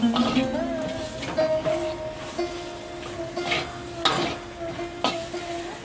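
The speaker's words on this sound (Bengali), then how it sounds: "আর এই পোস্তটা দিয়ে আলুটা একটু কষে নেব।" Potatoes with poppy seed paste and spices being stir-fried in a pan, a soft sizzle under repeated scraping strokes of a spatula, several sharper clatters against the pan, close and moderately loud.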